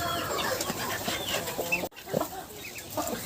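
Brooding hens in a poultry house cluck and squabble near guinea fowl keets, with short clucks and squawks scattered irregularly and close by, briefly cut by a dropout midway.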